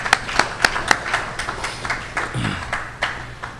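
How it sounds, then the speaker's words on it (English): A small group at a youth forum claps for panelists, with a few sharp, distinct hand claps at first that soften into scattered, thinning applause. "Give our panelists a round of applause."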